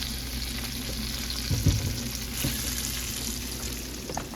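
Garlic cloves frying in butter for shrimp scampi, a steady soft sizzle with a few louder scraping stirs in the middle, close and continuous with no talking.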